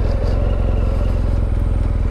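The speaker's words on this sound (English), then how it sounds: "I'm riding a GSA." A BMW R1200GSA motorcycle rides along with its low, rapidly pulsing boxer engine thrum close and loud, mixed with road and wind rumble and no talk over it.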